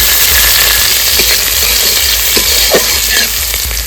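Chopped onion tossed into hot oil with finely chopped ginger, garlic and green chili, frying with a steady, close, continuous sizzle and a few light stirring scrapes.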